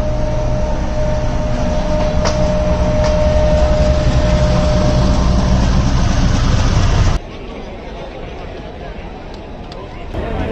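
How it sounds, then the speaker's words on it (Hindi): A train passes close by with a loud, continuous rumble and rattle. The noise cuts abruptly to a quieter, lingering rumble after about seven seconds. "ट्रेन जा रही है"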